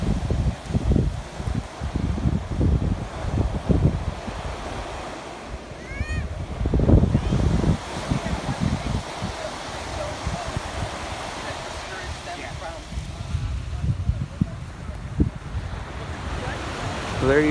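Ocean waves wash in on Zihuatanejo beach in Mexico, rolling surges rising and falling over a steady background wash, with gusts of wind buffeting the microphone and a few faint sounds of people further off.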